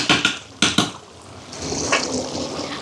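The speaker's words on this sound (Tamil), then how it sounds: "குழம்பு ரெடி ஆகிட்டு இறக்க போகிறேன் பாருங்க" A few sharp metallic clanks of a pot of curry being taken off the stove, then a softer bubbling hiss as it settles.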